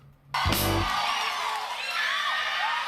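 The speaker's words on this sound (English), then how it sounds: "the crowd is super thin because at the time, at these smaller shows, we don't have crowd mics" Thin crowd at a small concert show cheering and whooping, a sudden loud burst after a quiet start that trails into a sustained, fairly distant mix of yells and shouts.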